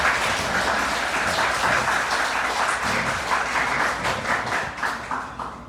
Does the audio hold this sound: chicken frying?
no